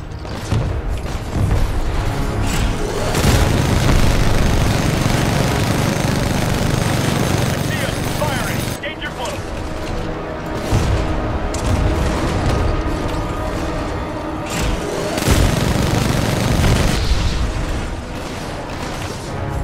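Artillery fire support in Titanfall 2 delivers heavy, rumbling blasts in several long rolling waves, loud and close, with brief lulls between barrages while voices talk over the din.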